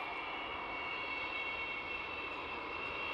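Steady, loud droning roar of the engines of the Antonov An-225 Mriya, the world's largest aircraft, holding at an even level throughout with no voices over it.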